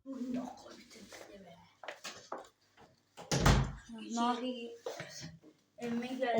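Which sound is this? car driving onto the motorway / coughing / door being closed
door being closed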